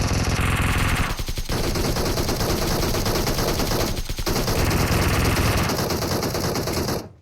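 Nearly nonstop rapid automatic gunfire in PUBG Mobile zombie mode, loud and close, with dense rattling bursts broken by two brief pauses before cutting off abruptly.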